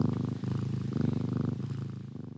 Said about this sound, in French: des ronronnements très agréables